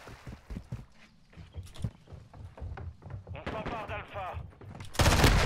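Pistol gunshots in the Modern Warfare 2 video game, sharp cracks fired one at a time amid other game noise, with someone talking over them and a loud burst at the end.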